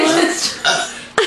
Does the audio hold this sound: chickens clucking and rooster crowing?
no